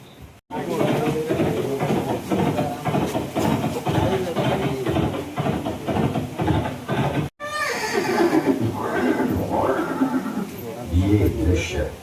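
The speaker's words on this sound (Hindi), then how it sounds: "ये दृश्य महाराणा प्रताप और सुविख्यात स्वामी भक्त घोड़े चेतक के अंतिम मिलन का है।" A horse neighs and whinnies in a Maharana Pratap and Chetak exhibit scene, set among hissing, dramatic sound effects and a narrating voice, with a brief cut partway through.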